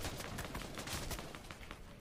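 Gunfire in an online shooter game, rapid overlapping bursts of shots crackling in quick succession, fairly faint and distant-sounding, with no speech over it.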